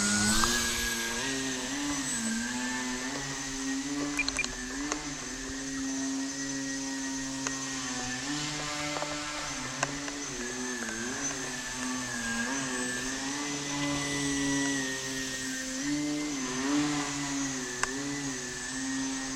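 Small indoor RC airplane flying on high rates, its bent propeller giving a buzzing, wavering whine that rises and falls in pitch as the motor throttles, steady and fairly close throughout.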